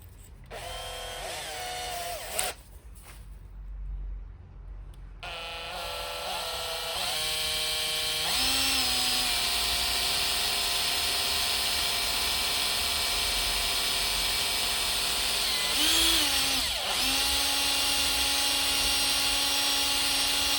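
A power drill with a 3.5mm bit whines steadily at high speed on a 1963 Mercedes W111 220 SEb cabriolet under restoration, its pitch rising and dipping briefly as it bites, loud and close with a short pause early on.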